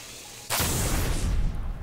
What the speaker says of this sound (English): There's an enemy grenade.